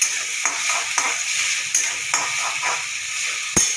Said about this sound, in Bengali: পেঁয়াজটা আমি বেশি ভাজতে পারবো না, যতটুকু মানে কাঁচা গন্ধটা চলে যাবে ততটুকুই আমি ভাজবো।